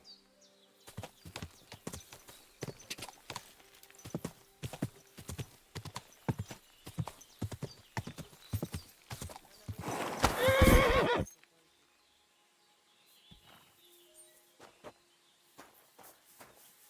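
Horse hooves clop in a steady rhythm in the video game Kingdom Come: Deliverance 2, then a loud whinny rings out before the hoofbeats stop, leaving a few quieter steps afterward.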